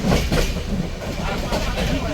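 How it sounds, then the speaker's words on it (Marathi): A CSMT–Nagpur Duranto Express train rolling out of CSMT, with a steady close rumble and rhythmic clatter from the carriage running throughout, with faint voices mixed in. "तर आपली ट्रेन निघालेली आहे CSMT वरून."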